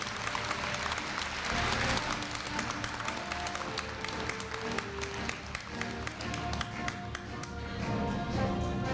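A large audience at a 2015 Korea University freshman entrance ceremony applauds, a dense continuous patter of many hands clapping in a big hall, steady and moderately loud throughout with a faint low hum beneath.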